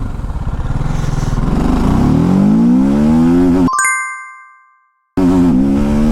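A TVS Apache RTR310 motorcycle in sport mode accelerates hard, its engine note climbing steadily through a gear, then a bright electronic chime rings out before a sudden gap of silence and the engine returns loud and close.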